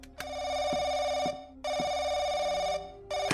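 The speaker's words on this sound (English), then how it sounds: "A mysterious unknown phone call." An old-style telephone bell rings in an RPG Maker horror game, three loud repeated electronic rings with short gaps between them, heard alone.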